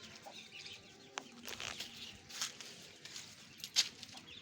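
Chickens and chicks cluck softly in a farmyard, with scattered short calls, light rustling and occasional wing flaps, fairly faint.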